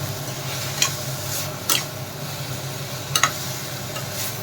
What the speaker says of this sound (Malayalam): തക്കാളിയുടെ പച്ചമണം മാറുന്നത് വരെ വഴറ്റാം.